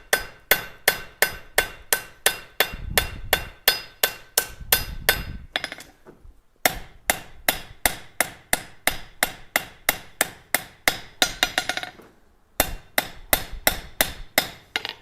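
Hammer forging hot metal into blacksmith tongs, rapid evenly spaced ringing blows struck in long runs, loud and close, broken by two short pauses.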